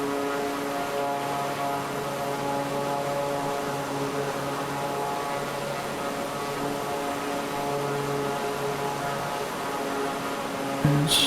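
Draco X propeller plane climbing in Microsoft Flight Simulator 2024: a steady, even engine drone with a humming tonal buzz that holds throughout, ending in a brief click, with no talking.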